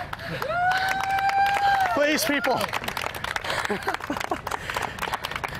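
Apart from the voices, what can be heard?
polite applause at a fire academy training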